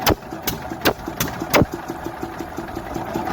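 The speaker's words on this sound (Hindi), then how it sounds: "ये देखिएगा इंजन स्टार्ट हो गया है" An 8 hp diesel pumpset engine runs steadily after starting at night, a close, rhythmic low chugging knock with several sharp louder bangs early on, then settling into an even idle beat.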